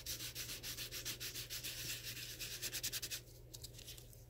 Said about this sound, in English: you can sand that the same way